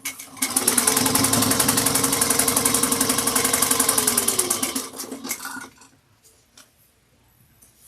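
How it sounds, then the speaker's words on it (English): A sewing machine topstitches a bag's side panels with a rapid, steady mechanical chatter for about five seconds, close and loud, then stops and leaves a few soft handling clicks. "you're going to want to top stitch 1/8 of an inch onto the side panels"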